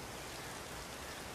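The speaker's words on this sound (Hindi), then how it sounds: "बारिश बढ़ रही है काफ़ी ज़्यादा" Steady rain pours down over a village with crops nearly ready for harvest, a dense, even hiss of falling drops with no pauses, close and filling the whole scene.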